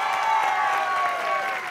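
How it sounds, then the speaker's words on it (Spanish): A studio audience on a Spanish-language TV show applauds for Edwina Findley Dickerson, a short, even burst of crowd clapping that holds at a steady loudness throughout. "El aplauso para Edwina."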